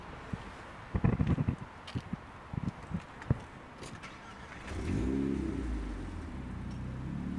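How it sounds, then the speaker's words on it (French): A Renault Megane RS tuned past 400 hp fires up after a few clicks and thumps, settling into a low, fairly quiet idle at a distance. "Je vais la démarrer, on va pouvoir entendre le bruit."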